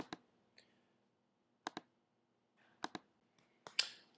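Computer mouse button clicks during software setup, arriving as sharp double clicks in quick pairs spaced across a quiet room, close and crisp with nothing else around them.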